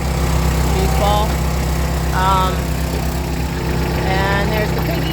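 Tractor engine idling steadily on a snowy farm during firewood chores, a constant loud low hum running throughout while a person talks over it.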